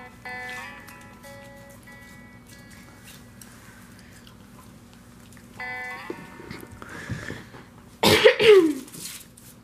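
A sharp cough bursts out near the end after quieter background sounds, with some small clicks and rustles beforehand.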